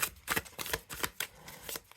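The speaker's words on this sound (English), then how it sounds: "Now I'm shuffling. It's not too bad." A deck of playing cards is shuffled by hand in a quiet room, a rapid flurry of crisp riffling and slapping bursts repeating several times in quick succession, close and fairly loud.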